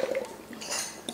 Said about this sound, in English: I'm gonna put this with a silverware because it can fall through